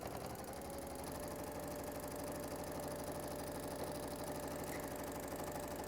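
Domestic sewing machine stitching a folded fabric pouch with a magnetic clasp, running a steady quarter-inch seam with a short holding stitch; a continuous, even motor whir with a rapid needle rhythm throughout, close and alone.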